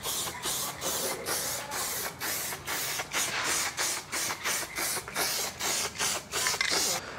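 Repeated short hissing bursts from a spray paint can laying a second coat on a car part, about a dozen evenly spaced sprays in steady rhythm, close and fairly loud.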